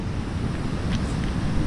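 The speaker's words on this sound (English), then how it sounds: "But it's very windy" Strong wind buffets the microphone in a steady, roaring rumble, with surf washing faintly underneath and no voices.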